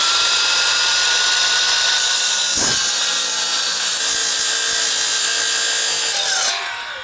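A power saw at a sawmill cuts through a board with a loud, steady, rasping whine that holds for several seconds before tapering off as the cut finishes.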